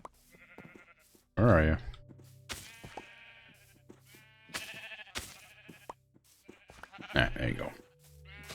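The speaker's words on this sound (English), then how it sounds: "We've almost got the sheep in here now." Minecraft sheep bleat several times, loud and close, with separate calls scattered between quieter game sounds while a person speaks briefly.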